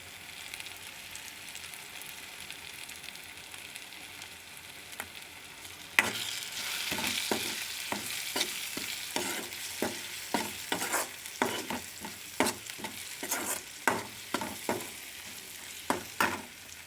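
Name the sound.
tomato and turmeric stirred and frying for prawn gongura curry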